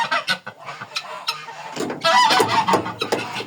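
A pair of farmyard geese among guinea fowl and other poultry gives off repeated clucking and honking calls, close and fairly loud, with a denser burst of calls in the second half.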